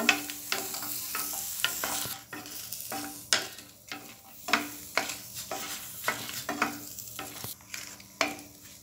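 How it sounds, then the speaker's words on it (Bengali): Dried red chillies, about seven or eight, fry in a pan beside onion and garlic, with steady sizzling broken by sharp clatters of stirring at irregular intervals, close and fairly loud with no talking. "এখন মরিচগুলোকেও একটু ভেজে নিব"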